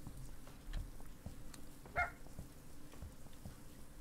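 A dog in the horror video game Danny's House gives a single short bark partway through, fairly faint against a low, steady background hum.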